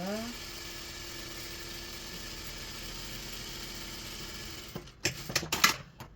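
A sewing machine stitches a French seam in a steady, even mechanical hum for several seconds, then stops and gives way to a few sharp handling clicks and rustles.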